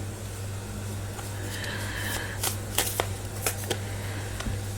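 Tarot cards are shuffled close by in a soft steady riffle, ending in several sharp snapping flicks over a low background hum.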